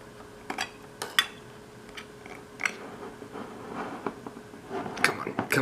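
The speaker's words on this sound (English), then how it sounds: "use my spoon now to pry this out" A metal spoon pries at the lid of a cold can of black beans, giving a series of sharp metallic clicks, scrapes and small crunches in irregular bursts, close up and fairly quiet.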